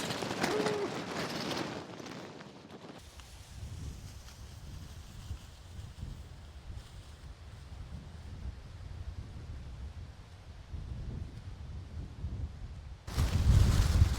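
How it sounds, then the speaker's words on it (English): Steady, rushing wind roars across the microphone in open countryside, with a poncho flapping, with louder buffeting bursts at the start and the very end. "It's so windy. Look at this, my poncho's blowing around like a flag."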